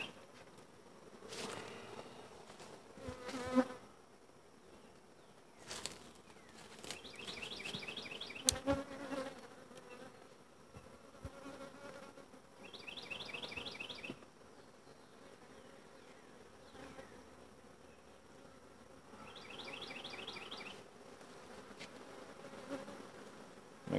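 Honey bees hum and buzz steadily around a hive being split, a soft continuous drone with occasional louder passes and scattered knocks and rustles nearby.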